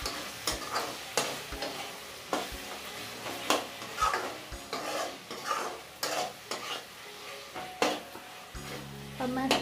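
Green chillies being stirred into soybean chilli in a pan, with a spoon scraping and knocking in irregular strokes over a light sizzle, close and fairly quiet, with no talking.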